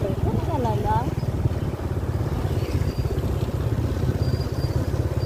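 A motorcycle engine runs steadily close by with a low, rhythmic pulsing drone, while people talk over it.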